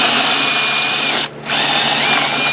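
A power drill fitted with a 1.25-inch hole saw, running in reverse, cuts a hole for a hydroponic rail system: a loud, steady, close whine that dips briefly partway through, then resumes at full strength.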